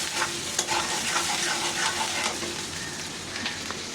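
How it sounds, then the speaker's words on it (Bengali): Spiny gourd (kakrol) fries in oil in a wok on a stove, a steady close sizzle with scattered clinks and scrapes of stirring. "এই যে এই চুলায় আমি কাঁকরোল ভাজিটা বসাই দিব।"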